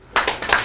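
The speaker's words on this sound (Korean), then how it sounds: "박수 한번 주세요." Attendees at a restaurant franchise academy session give a brief round of hand clapping. A few close, crisp claps come in quick succession, unaccompanied by speech.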